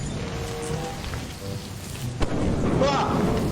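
Steady rain patters throughout in the video game Lethal Company while a thunder crack hits midway and rumbles on, with a faint voice briefly underneath.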